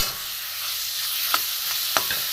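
Carrots fry in hot ghee with a continuous bright sizzle and a couple of short crackling pops, close and steady with no talk.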